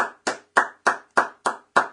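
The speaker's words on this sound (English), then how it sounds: "I gotta give a round of applause" A single person claps seven times in an even, slow rhythm, each clap sharp, close and loud with short silences between, no talking.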